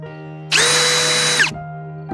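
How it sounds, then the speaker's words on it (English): A power drill bores a pilot hole into a deck board: a single loud, high whine lasting about a second, revving up and winding down, close by. "And what I'm doing is putting a pilot hole in"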